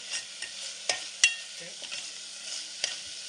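A ground paste of coconut, ginger, garlic, black pepper and cloves, with green masala, is sautéed for a crab curry, heard as a soft sizzle with several sharp spatula scrapes and taps against the pan.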